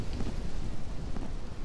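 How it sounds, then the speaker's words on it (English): Steady rain in the video game Grand Theft Auto III, a dense even hiss of falling water with a low rumbling undertone, continuous and fairly loud. "Oh, it just started raining."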